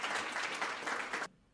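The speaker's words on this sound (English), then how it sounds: "Let us welcome Dr. Nader with a heartfelt round of applause." Applause from an audience welcoming Dr. Tony Nader to a lecture on Ramayana in human physiology, a brief, fairly faint burst of clapping that stops abruptly after about a second.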